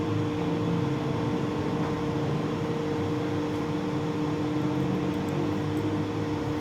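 A lathe spins for friction welding, giving off a steady, even mechanical hum with faint whining tones, continuous and fairly quiet throughout, with no talk.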